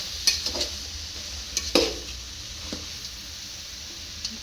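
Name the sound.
stirring food in pot with ladle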